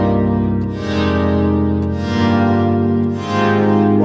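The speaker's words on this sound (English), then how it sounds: "great kind of sounds, pad type sounds like this." A sustained analog pad from a Korg Prologue synthesizer, with a warm layered chord that shifts gently a couple of times, playing loud and steady on its own with no talk.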